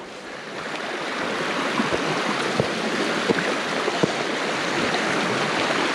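A stream and waterfall in Marin pour and splash continuously, a dense steady wash of flowing water with small bright splashes, close and fairly loud, with no voices.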